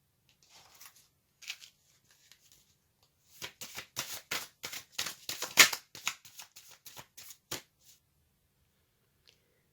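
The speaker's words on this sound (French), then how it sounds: "Je vais tirer une deuxième carte pour voir quelles sont vos peurs." Tarot cards for a Halloween reading, first a few faint soft slides, then a burst of rapid crisp riffling shuffles close by, settling into quiet with one last light tap.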